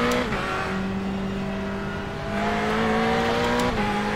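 Race car engine in the iRacing sim game drones steadily at high revs, shifting pitch a few times as gears change, a continuous mid-level in-game roar with no voices.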